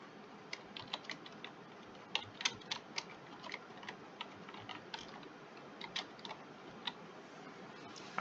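Computer keyboard typing a category name, a quiet close run of irregular key clicks with a few sharper taps, no talk over it.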